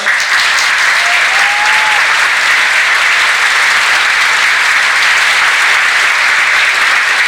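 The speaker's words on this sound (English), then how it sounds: "please give them a round of applause" A large audience at a scholarship recipients announcement applauds the scholarship donors: dense, even, loud clapping that continues unbroken, with no talk over it.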